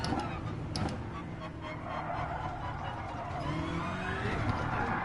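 A Group 3 race car engine drones steadily in Gran Turismo Sport on the Bathurst circuit, a continuous, moderately loud whine with shifting pitch and occasional squeals from the tyres.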